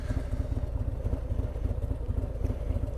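Motorcycle engine running steadily while riding along a route to view painted fox-hunt targets, a continuous low pulsing drone close to the microphone, with no talking.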